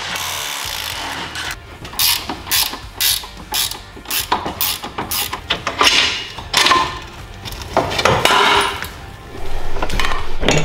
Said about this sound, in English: With the spindle removed, we can unbolt the A-arms.